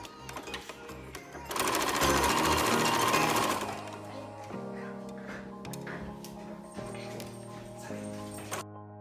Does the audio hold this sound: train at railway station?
no